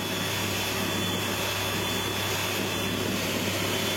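An electric mixer whips sponge roll-cake batter with a loud, steady, unbroken motor whir close by, running without pause and with no voices.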